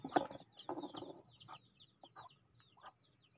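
Chickens cluck on a small farm, a series of short clucking bursts, a busy cluster at first, then sparser and quieter calls trailing off.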